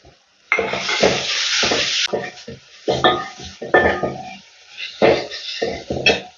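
Small shallots sautéing in oil with cumin, turmeric, green chilli and curry leaves, heard as clattering stirring and scraping in a pan in uneven bursts over a faint sizzle.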